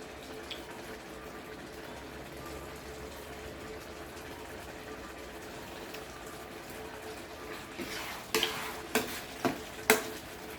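Canned fish and holy basil stir-fried in a pan, a faint steady sizzle, then several sharp scraping stirs of a spatula near the end.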